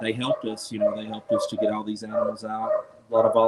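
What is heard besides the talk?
No everyday noises stand out.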